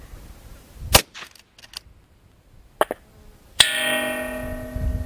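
Two sharp .223 rifle shots ring out at a long-range shooting spot aimed at a target 1704 yards away, each a crisp close crack with a fading tail, followed by steady wind or rustling noise.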